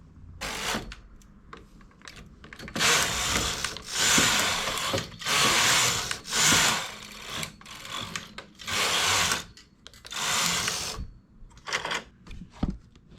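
Knitting machine carriage sliding back and forth while making a summer top, giving repeated loud rattling, clacking sweeps in a regular rhythm of about two-second passes, with brief quiet gaps between strokes.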